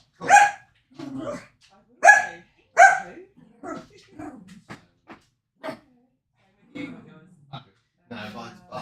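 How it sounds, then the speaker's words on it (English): A dog barking upstairs indoors: a few sharp, separate barks come through in bursts between stretches of people talking nearby. "mine's barking upstairs"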